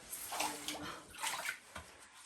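Someone wades into cold creek water inside a tunnel, producing repeated sloshing and splashing surges from nearby steps, fairly soft and echoing, with no speech.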